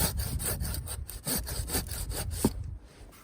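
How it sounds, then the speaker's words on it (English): Bowsaw making a downward cut through a coppice trunk, close and steady rasping strokes in a quick back-and-forth rhythm, about a dozen pulls before the sawing eases off. "I'm going to come in on a downward cut, which is fine, and it's not too much of a problem, but it allows you to deal with this second trunk"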